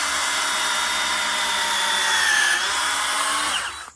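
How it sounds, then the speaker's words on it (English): A power drill mixing a dry pollen patty for bees whirs continuously at steady speed, loud and close, with a slight rise in pitch before it winds down at the end. "That took a little bit of drilling."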